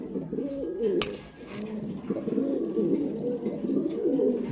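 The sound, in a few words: King Lahori Mundi pigeons cooing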